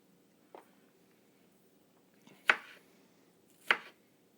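A knife chopping green onions on a cutting board, the blade noted as needing sharpening, gives three separate chops spaced apart at a moderate distance against a quiet background.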